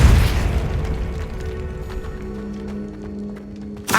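A Depulso force spell blasts out in the video game Hogwarts Legacy as a sharp booming burst, followed by a fading rumble and then a second short impact at the end.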